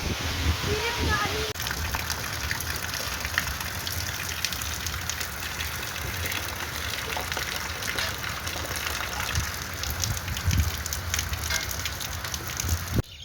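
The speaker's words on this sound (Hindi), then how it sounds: "अभी बारिश हो रहा है। बारिश बहुत तेज हो रहा है" Heavy rain pours down on a village near a mango tree, a dense, steady hiss and patter filling the air throughout, with a voice speaking over the downpour.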